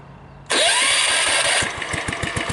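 A Bolens Husky 600 small tractor engine cranks and catches with a sudden roar, then settles into a rough, pulsing idle, loud and close.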